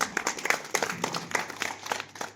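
An audience at a primary school's annual function claps in a steady, moderately distant patter of many hands that lasts throughout, with faint talking mixed in underneath.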